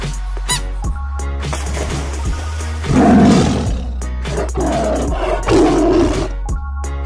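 A yellow tiger roars in loud, rough bursts, strongest around the middle and again near the end, over a steady low hum with some squeaky tones mixed in.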